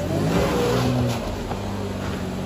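A Tank 300 SUV engine revs hard on a steep off-road slope climb, a loud, steady drone near the listener that eases slightly about halfway through.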